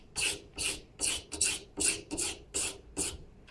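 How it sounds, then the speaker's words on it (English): Metal is cross-filed with a hand file: about eight loud, close rasping strokes in an even rhythm, with short pauses between them and no voices. "So it's cross-filing, we've got scratches going across the work."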